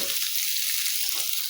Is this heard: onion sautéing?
yes